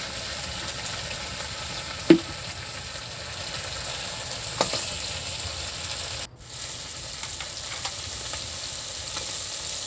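Black pepper and green chillies frying in hot oil for a crab curry, giving a soft, steady sizzle with a few sharp spatters and a brief stir partway through.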